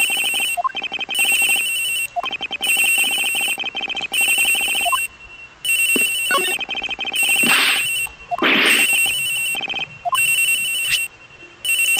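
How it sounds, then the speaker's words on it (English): A cell phone rings in the Ace Attorney Investigations game, a loud repeating electronic ringtone in steady bursts with short gaps, joined by a few brighter swishing effects partway through. "So that's the phone."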